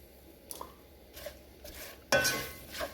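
Fresh tomato slices being stirred into a pan of shrimp and mushroom rice, with a few soft scrapes and clinks of a utensil against the pot, ending in a louder, longer stirring scrape.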